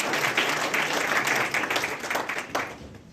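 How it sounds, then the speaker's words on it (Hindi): Audience applause at a book launch where twelve books by one author are released together, a steady dense patter of many hands clapping throughout, fairly close and even. "तालियों की आवाज से"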